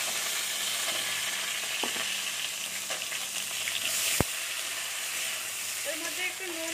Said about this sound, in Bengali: তেল গরম হয়ে গেছে, আমি বেগুন গুলো একটু ভেজে নিচ্ছি।